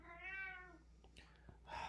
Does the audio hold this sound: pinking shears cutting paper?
no